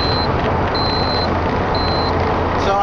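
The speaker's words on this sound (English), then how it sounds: "The original Saab radio is a Saab Clarion, and you can see that it's just beeping." Three steady high-pitched electronic beeps from an original Saab Clarion car radio in a Saab convertible, evenly spaced, ringing over a low engine-like rumble; no talking.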